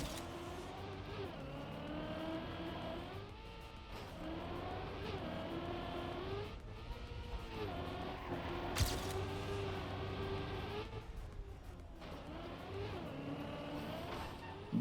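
Steady engine drone of a car driving in a racing-style video game, with the pitch rising and falling as the motor revs through gear changes, continuous and fairly quiet throughout.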